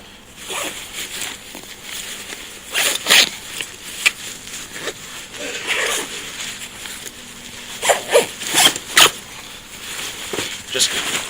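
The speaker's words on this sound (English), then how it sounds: "that's kind of when I'll zip it up" A KUIU hunting backpack is zipped up indoors in several short, scratchy zipper pulls spread across the stretch, with quieter rustling of gear between them and a low room background.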